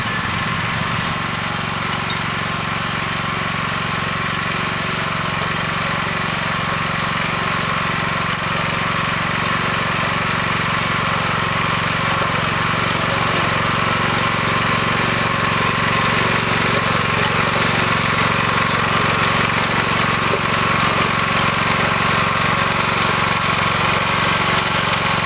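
A tractor pulling a Berta rotary plow drives steadily while cutting soil into raised beds, its engine droning loud and continuous with a constant mechanical churn throughout.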